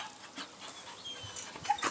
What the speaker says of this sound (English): These are my son's dogs.